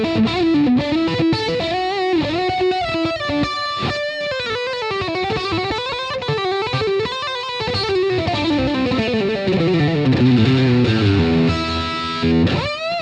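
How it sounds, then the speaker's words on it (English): Distorted electric guitar playing fluid legato runs through the neck single-coil pickup, with a twangy tone and an effects-laden sheen, loud and close with continuous gliding notes and a descending phrase toward the end. "they mostly use their neck single coil, which produces sounds like this."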